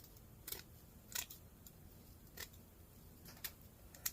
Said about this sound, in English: I take these cheap pair of scissors and I cut